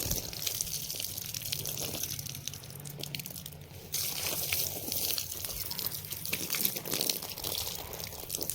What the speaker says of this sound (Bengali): তুলসা স্থানে একটু জল দিয়ে দিলাম, মন্দিরটাকে ধুয়ে দিলাম